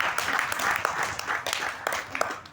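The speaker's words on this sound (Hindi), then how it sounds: "ताली तो बजा दिया" An audience bursts into applause, a dense crackle of many hands clapping at once, moderately loud and sustained with no talk over it.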